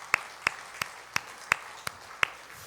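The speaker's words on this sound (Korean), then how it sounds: "박수로 환영합니다." Seven sharp, separate claps spaced evenly about every third of a second, crisp and fairly close, with no voices, welcoming a guest at a Sunday church service.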